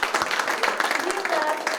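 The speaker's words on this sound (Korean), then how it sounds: "다시 한번 큰 박수 부탁드리겠습니다" Audience in a classroom-themed talk event claps loudly after a presentation, a dense, steady wash of applause filling the short moment.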